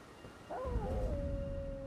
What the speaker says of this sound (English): Yeah, oh, another doggy.